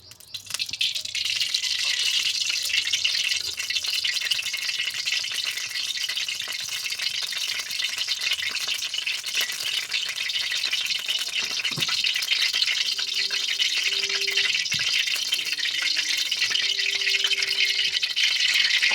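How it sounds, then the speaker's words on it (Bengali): Tengra fish sizzle in hot oil in a home kitchen, a steady loud frying hiss that runs for the whole stretch, with a faint soft tone rising briefly near the end. "ট্যাংরা মাছ আর তেল দিলাম।"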